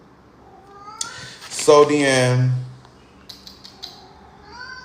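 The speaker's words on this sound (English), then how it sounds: "y'all hear the kitty?" A cat lets out one long, loud drawn-out meow up close, with a few short softer chirps after it, while someone speaks briefly before it.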